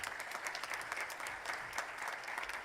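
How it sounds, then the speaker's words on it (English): Audience applause at a realtors' association annual membership meeting honouring Gordon McCann, a steady wash of many hands clapping at moderate distance, fairly faint and even throughout. "A round of applause for Gordon McCann"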